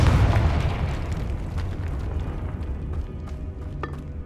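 Confringo fire spell blast in the video game Hogwarts Legacy, a loud booming explosion at the start that rumbles and slowly decays into a dense, lingering roar with faint crackles.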